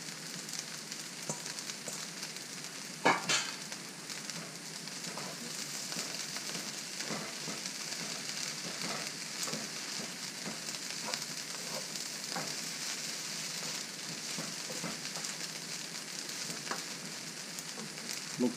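Eggs sizzle in a hot pan for Chinese sausage fried rice, with a dense, even frying hiss throughout and occasional sharp pops and scrapes from stirring.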